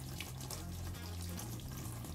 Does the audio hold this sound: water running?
yes